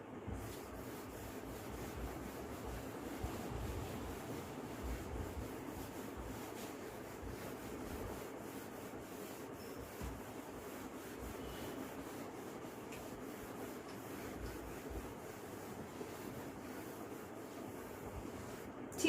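Duster rubbing writing off a classroom board during an accounting lesson, a steady, soft scraping that continues for about nineteen seconds with no voices.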